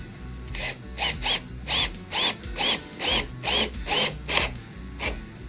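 Power drill drives a large construction screw into wood in short repeated spurts, about nine bursts of whirring motor with brief pauses between, close and fairly loud with no talk.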